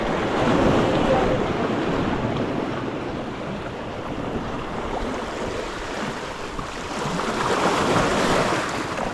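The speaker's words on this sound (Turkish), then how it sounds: "Rüzgar geçti önümüzden." Wind rushes past in a broad, steady gust during light rock fishing by the water, swelling and fading with a wash of surf-like noise and no clear voices.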